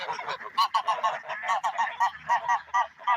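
Geese honk repeatedly in a snowy yard, a close, loud flock calling in quick, rhythmic overlapping blasts with no voices.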